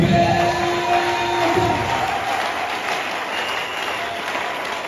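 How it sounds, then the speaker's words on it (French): A church congregation breaks into loud, steady applause with scattered cheers and whoops, a dense crowd clapping throughout at full volume. "Acclamez."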